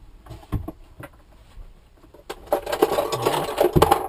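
An 8mm spanner tightening a fabricated GoPro mount gives a few sharp metallic clicks, then a denser, louder spell of clattering and scraping near the end.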